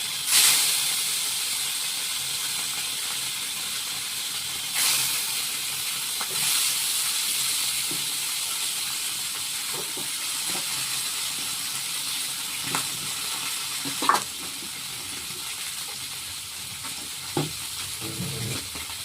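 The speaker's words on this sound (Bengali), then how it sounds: "মাছটা আস্তে আস্তে ভাজা হোক একটু" Three large fish pieces fry in hot oil, giving a steady soft hiss with a few brief louder crackles and pops scattered throughout.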